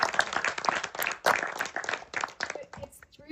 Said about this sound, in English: please give me a little applause